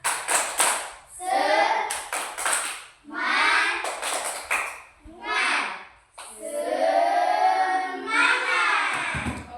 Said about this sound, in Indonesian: Coba semua berdiri aja kita tepuk semangat.